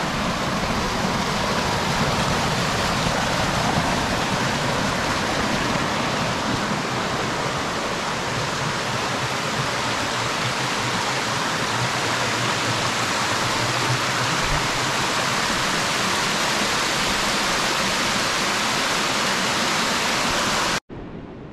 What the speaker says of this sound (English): Here you can see Spike Creek made a pretty awesome little waterfall here